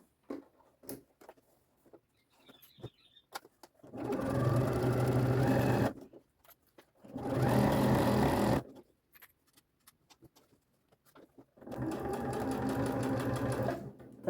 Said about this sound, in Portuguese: Agora eu vou passar uma costura aqui.